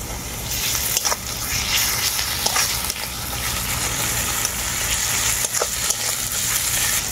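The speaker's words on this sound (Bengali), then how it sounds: "রসুনটাকে আমি ভালো করে ভেজে নিয়েছি" Garlic paste frying in a pan for a chicken curry, a continuous close hiss and sizzle with a few faint clinks.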